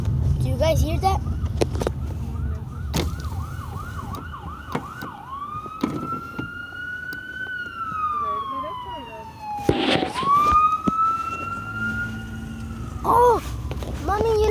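An ambulance siren wails in rising and falling sweeps as it passes nearby in the street, fairly loud, with people talking over it.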